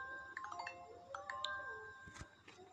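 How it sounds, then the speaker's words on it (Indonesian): A chiming ringtone from an iPad in the video game Avatar World, a few bright tones rising and falling at moderate volume against a faint background. "Tiba-tiba iPad mau berbunyi."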